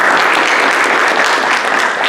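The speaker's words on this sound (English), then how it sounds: "Round of applause for our guests." An audience at a civic day event on state government applauds its guests, including a Missouri state representative, in a short, steady burst of dense clapping with no talk.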